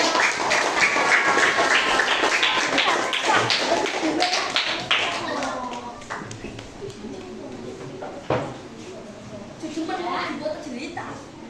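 Classroom of primary-school pupils at SD Negeri 2 Dorang claps after a group presentation, a dense patter of many small hands that fades over several seconds, mixed with children's voices and a teacher talking.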